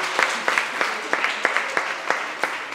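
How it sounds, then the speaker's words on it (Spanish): Applause at a children's murga carnival performance, clapping with a regular rhythmic beat of sharp accented claps over a softer patter, fairly close. "Vamos a darle un aplauso, por favor."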